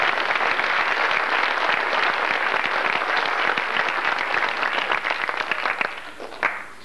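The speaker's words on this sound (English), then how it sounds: "a round of applause and great thanks" A crowd claps at a 1995 high school football banquet, loud continuous applause that thins toward the end into a few scattered final claps.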